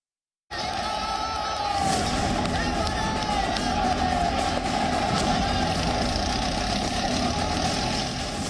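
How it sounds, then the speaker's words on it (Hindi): Tractors and heavy engines rumble steadily and loudly during a farmers' protest in Delhi, a continuous close drone with crowd noise and voices mixed in throughout. "ट्रैक्टरों के जरिए आगे बढ़ने की कोशिश की जा रही है।"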